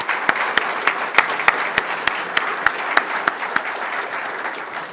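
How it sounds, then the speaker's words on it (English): Audience at a Somali diplomatic event in New York applauds the team, a sustained patter of many hands with a few sharp, loud individual claps standing out nearby. "Please help me also give them a round of applause,"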